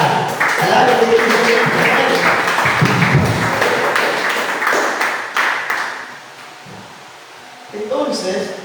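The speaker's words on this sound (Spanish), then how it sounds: "démosle un aplauso a Jesucristo" Congregation applause at a Spanish-language church Bible study, a broad wash of clapping from many people for several seconds that then drops away as a voice resumes talking.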